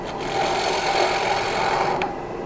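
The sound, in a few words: gouge cutting cherry wood bowl on a lathe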